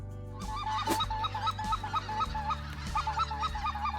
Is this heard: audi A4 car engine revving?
no